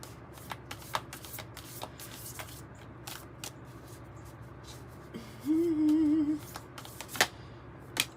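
Kim Krans Wild Unknown archetype and alchemy tarot and oracle card decks are shuffled by hand, soft riffling and sliding throughout with a brief louder whirring riffle near the end.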